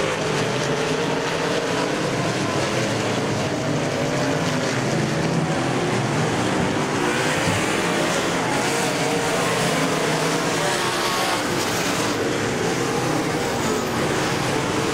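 Dirt track race cars roaring around the oval at a summer nationals event, a dense, loud, continuous engine drone with cars passing in overlapping waves.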